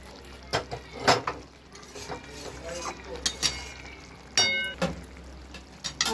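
Lote fish curry with raw mustard oil being stirred in a pan, with scattered scrapes and clinks of the spoon against the pan over a steady low sizzle and background hum.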